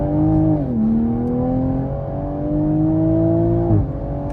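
A Toyota Supra accelerates hard, its engine note climbing steadily with a sudden dip and recovery as the car slides out, loud and close throughout.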